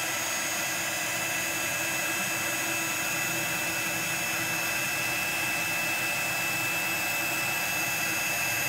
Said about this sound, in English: And then we're going to heat this up using our heat gun.